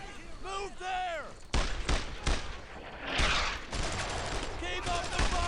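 Gunfire rattles in the World War II shooter Brothers in Arms: Earned in Blood during a night patrol, sharp bursts and single shots cracking out loudly after a stretch of talk from a player.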